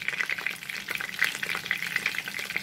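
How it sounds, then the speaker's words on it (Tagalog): Colored peppers stuffed with minced meat frying in a pan produce a continuous, close crackling sizzle with bright spitting pops scattered throughout, and no voices. "Piniprito natin guys."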